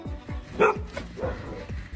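A frightened dog barks in a quick, repeated string of sharp, close barks with a few yelping notes, reacting to its owner's costume.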